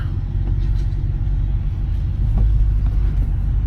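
A 1996 Chevrolet Impala SS engine runs in low gear, a steady deep rumble heard from inside the car, loud and continuous with no talk.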